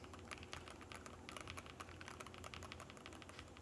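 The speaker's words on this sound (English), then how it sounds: "Now let's check out the typing experience." Fast, steady typing on a NuPhy Field75 HE keyboard with magnetic switches, dense crisp keystrokes close up with no voices.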